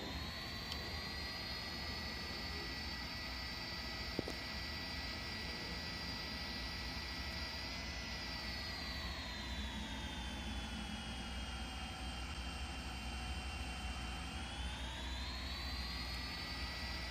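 A Singapore Airlines Boeing jet taxis in a flight simulator game, its engine a steady, continuous whine that shifts pitch slowly as power changes, with no talking.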